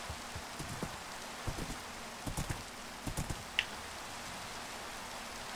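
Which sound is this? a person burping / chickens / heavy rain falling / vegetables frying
heavy rain falling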